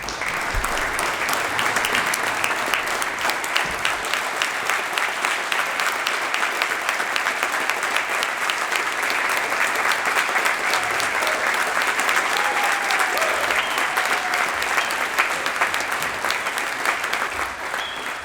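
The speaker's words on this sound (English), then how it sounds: "we don't normally allow applause before the vote has been taken" Lawmakers applauding on the floor of a state legislative chamber, sustained broad clapping from a large crowd, steady and loud throughout with a faint voice or two underneath.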